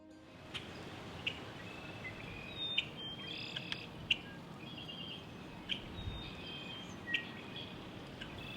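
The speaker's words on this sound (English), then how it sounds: "The birds are a sure sign of spring here in Minnesota" Several birds chirp and sing at a distance on a spring morning in Minnesota, over a steady outdoor hiss, with short calls scattered irregularly throughout.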